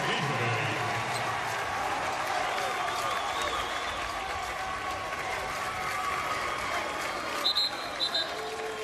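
Basketball arena crowd at an Iona College vs. Monmouth men's game, a steady broad roar of applause and cheering throughout, with a few brief louder bursts near the end.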